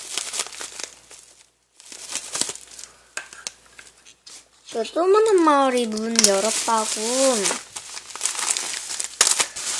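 Bubble wrap and plastic packaging crinkle and rustle as it is handled and unwrapped, bursts of crackling that come and go, with a person talking over the middle of it.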